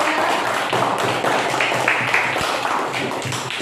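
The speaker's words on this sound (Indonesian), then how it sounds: "Tepuk tangan dulu buat kelompok 3. Tepuk tangannya banyak." A classroom full of people claps steadily for a student group, a dense patter of hands that holds at an even level throughout.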